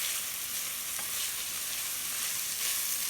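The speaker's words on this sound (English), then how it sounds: "So I'm just going to saute this for like 2 minutes." Onions, jalapenos, garlic and chili flakes sizzle in a Le Creuset pot, a steady close-up crackling hiss that stays constant throughout, with no talk over it.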